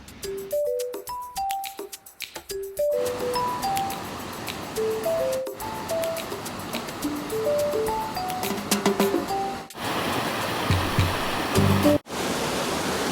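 A small forest waterfall rushes in a steady wash of water, a bright tinkling chime melody playing over it throughout and the water growing louder toward the end.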